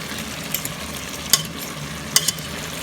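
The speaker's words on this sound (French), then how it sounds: "Vous allez bien mélanger, bien, pour que ça donne un bon goût." Beef meatball sauce with sweet potato being stirred in a pot, a soft steady sizzle broken by a few sharp spoon scrapes and clinks, close and moderately quiet, with no talking.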